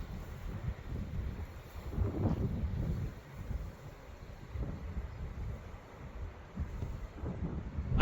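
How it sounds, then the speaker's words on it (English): Strong wind buffets the microphone at the Cliffs of Moher in Ireland, a continuous low rumbling roar that swells and eases in gusts. "I'm really glad I brought my fleece jacket today because it's so windy up here."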